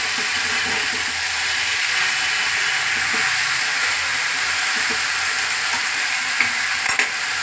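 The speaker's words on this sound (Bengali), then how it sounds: "এবার বাঁধাকপিটা দিয়ে দিলাম, আরও আছে দিচ্ছি নেড়ে নিই, মিক্স করে নিই" Cabbage frying in a pan with coconut, a loud, constant hissing sizzle filling the whole stretch, with soft stirring scrapes underneath and a brief clatter near the end.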